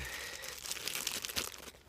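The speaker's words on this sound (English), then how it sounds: "all contained in a very lightweight, super tactical plastic bag" Close, soft crinkling and rustling of a lightweight plastic bag holding a fire kit, brief irregular crackles with no talk.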